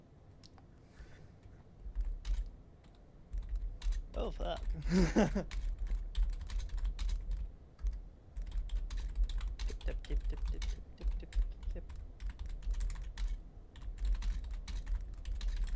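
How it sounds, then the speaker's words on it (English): Typing on a computer keyboard during an Arma 3 gaming session, rapid close clicking keystrokes running through most of the stretch, with brief spoken exclamations and a low hum underneath. "X over here typing."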